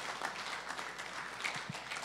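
Steady applause from a crowd at a university award ceremony fills the whole moment, an even wash of clapping at moderate volume.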